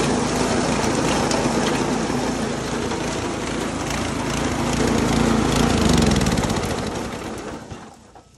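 A small motor engine, key-started and fuel-fed, runs steadily at a loud, close, rough idle with a constant droning rumble, swelling slightly before fading toward the end, with no voices.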